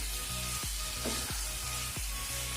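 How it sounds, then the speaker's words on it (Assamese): Chicken coated in spices sizzles in a pan for a chicken and taro dish, a continuous frying hiss with light stirring, over a faint repeating musical pulse in the background, and no one speaking. "ইয়াতে চিকেনটো দি দিম আৰু এইখিনি ভালদৰে লৰাই ল'ম"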